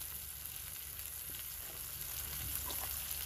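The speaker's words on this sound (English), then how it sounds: "then he finishes them up in the frying pan" Steak finishing in a frying pan at a campsite after cooking over a fire, a quiet, steady sizzle and crackle with faint pops, heard alone at low volume.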